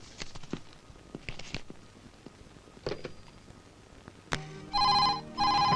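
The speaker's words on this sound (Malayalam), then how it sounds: "റാണി ഫോൺ എടുക്ക" A telephone rings in a comedy film scene, two loud electronic ring bursts near the end, preceded by quiet scattered taps and knocks with no talking.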